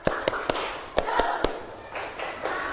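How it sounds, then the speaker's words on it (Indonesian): A group performing the rhythmic Indonesian 'tepuk semangat' spirit clap during a Qur'an Hadith class session: sharp, patterned claps in quick bursts, some spaced apart, with voices chanting in the background. "Sekali lagi, tepuk semangat."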